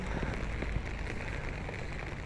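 Steady rain patters on a surface nearby, a dense, even hiss with scattered drops and no talking.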